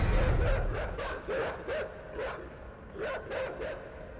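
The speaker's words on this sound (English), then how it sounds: "The dogs are really loud and harsh, which is in stark contrast to how quiet the rest of the game is" Video game dogs bark loudly and harshly in a series of about eight sharp barks in irregular bursts over a low rumbling background.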